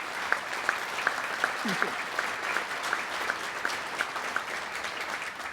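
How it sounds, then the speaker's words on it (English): An audience at a hospice charity dance event applauds steadily at a moderate distance. The clapping is broad and even, with a short spoken thank-you over it. "So let's give them a round of applause as well."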